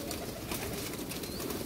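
Pigeons kept on a rooftop coo faintly beneath a constant, loud hiss of wind and outdoor noise that fills the whole moment.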